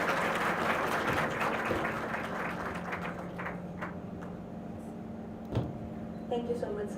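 Applause from the audience at an HR conclave at a business school, sustained clapping from a crowd that is loudest at the start and slowly tapers off, with a few faint sounds of speech and movement at the end.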